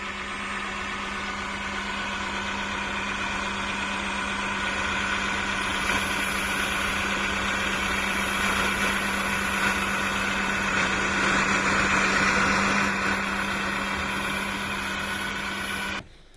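A Dreame H12 Pro wet-dry vacuum cleaner runs while cleaning a floor: a steady, close mechanical hum with a constant tonal drone that holds for about sixteen seconds before cutting off.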